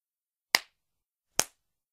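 Two crisp, sharp smacks roughly a second apart as a person slaps his arms, close and clean against silence.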